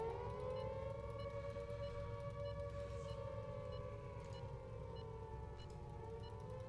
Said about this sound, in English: Why is there a nuclear missile siren?